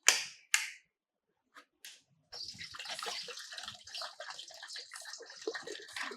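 Water runs from a tap in a household setting, a steady splashing stream that begins after a few faint clicks and knocks and continues close and moderately loud to the end.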